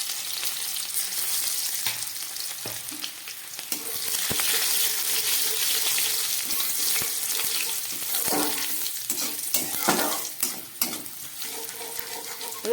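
Black cumin seeds and chopped garlic fry in hot oil, a steady bright sizzle running throughout with occasional stirring clinks and scrapes near the pan, and no talking.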